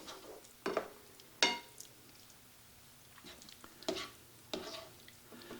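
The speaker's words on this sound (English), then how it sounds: "give it a little stir here" A beef and cabbage stir fry being stirred in a pan, with scattered scrapes and clacks of a utensil against the pan over a low, steady sizzle.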